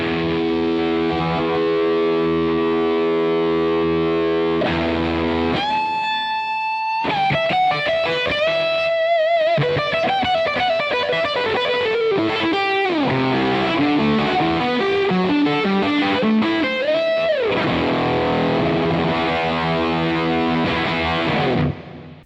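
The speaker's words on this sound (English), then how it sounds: "as we start to move into mood 3, we get some more modern, aggressive sort of tones." Electric guitar played through a Kernom MOHO fuzz pedal on its mood 3 setting, giving a modern, aggressive distorted tone: sustained chords followed by bent lead lines and riffs, loud and continuous with no talking.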